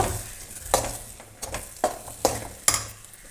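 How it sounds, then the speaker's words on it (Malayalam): Chicken curry masala being sautéed in a pan, with repeated scraping stirs and soft sizzling, several distinct spatula strokes at steady intervals, close and moderately loud, no voices. "ഒരു 2 മിനിറ്റോളം ഇത് നന്നായി വഴറ്റി കൊടുക്കുക"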